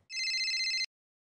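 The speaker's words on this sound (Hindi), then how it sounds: "मम्मी का फोन।" Phone ringtone, a steady bright electronic ring lasting under a second at close range, then abrupt silence.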